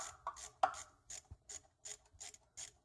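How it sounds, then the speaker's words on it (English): A 7mm socket loosens a hose clamp on a 2003-2005 Mercedes-Benz C230 with the M271 engine, giving about ten short, faint, evenly spaced rasping ratchet clicks, with one sharper metallic tick near the start. "You will need a 7mm socket to loosen this hose clamp."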